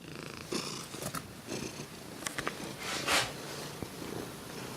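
A contented cat purrs close to the microphone, a continuous soft rumbling with occasional small snorts and rustles, no talk over it.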